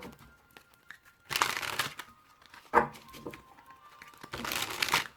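Crisp riffling and shuffling of tarot cards in three short bursts separated by quieter handling, close up, with no talking.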